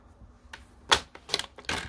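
A paper trimmer slicing an inch off a sheet of cardstock, heard as a few short, crisp clicks and swishes of the blade and sliding paper, close and moderately loud, with no voices.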